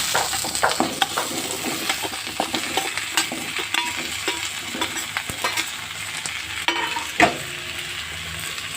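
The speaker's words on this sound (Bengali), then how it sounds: "এবার সবজিগুলো দিয়ে দেবো এক এক করে।" Potato, pumpkin and green chilli frying in a pan with grated coconut, a constant sizzle broken by stirring scrapes and clatters, close and fairly loud.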